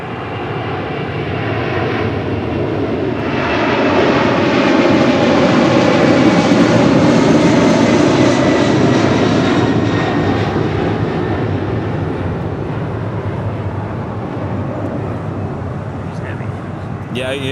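An airplane landing at Los Angeles International Airport makes a loud, sustained engine roar. It swells as the aircraft passes close, peaks in the middle, then slowly fades while continuing to rumble.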